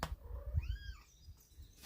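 A pet cat gives a single soft, drawn-out meow close by in a quiet room, with faint low thumps and rustling around it.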